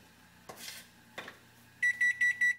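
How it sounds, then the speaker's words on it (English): A kitchen timer alarm beeps four times in a steady rhythm near the end, following soft clatter and faint boiling water in a kitchen while cauliflower cooks. "my timer's going off"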